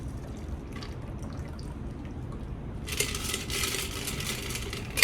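An orange juice cocktail is poured through a strainer into a glass, starting with quiet shaking and rattling, then shifting to a bright, steady trickling pour for a couple of seconds that ends with a small clink.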